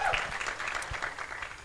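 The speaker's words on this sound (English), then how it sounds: "I think a round of applause, please." Audience applause at a panel discussion, a short burst of clapping from a seated crowd, moderately loud and steady throughout without any voices over it.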